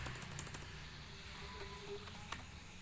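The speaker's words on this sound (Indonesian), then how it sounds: "di sini kita ketik" Password being typed on a computer keyboard, a quick cluster of faint light key clicks at the start followed by a few scattered taps over quiet room hiss.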